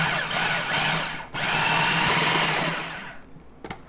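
A food processor pulses walnut pesto with nutmeg and fresh lemon: two loud, close whirring bursts with a brief break between them, then it stops and a few small clatters follow.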